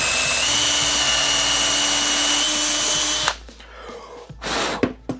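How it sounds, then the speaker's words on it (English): A cordless drill with battery fitted runs steadily at high speed for about three seconds while opening up a hole, during work on bluefin tuna spreader bars, then stops, leaving brief handling clatter and knocks. "So now we found our drill, found our battery, which Matthew found."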